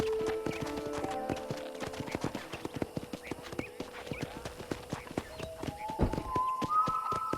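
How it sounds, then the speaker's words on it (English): Horse hooves clip-clop steadily at a walking pace around a ranch in the video game Red Dead Redemption, with sustained tonal game music or ambience underneath and no talking. "I picked out a fine horse for you."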